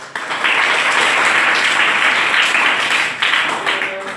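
A crowd's loud, steady rocket clap applause at a stage event, dense clapping sustained for several seconds with a brief swell near the end and faint voices underneath.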